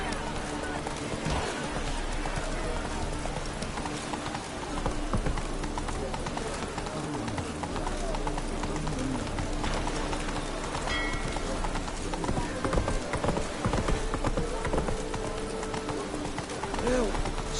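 Horse hooves gallop in The Witcher video game on PS4, a continuous rapid clip-clop rhythm under game music and ambience, with talk over it.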